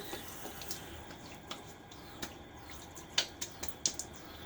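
Tap water runs briefly to wet an alum block during a wet shave, giving a soft wash of flow and a few sharper drips and splashes near the end.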